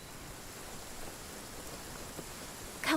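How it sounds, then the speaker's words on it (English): Rain falling in the video game Genshin Impact, a steady soft hiss of rainfall at moderate level with a brief louder sound breaking in at the very end. "ओए बारिश हो रही है यहाँ पे तो."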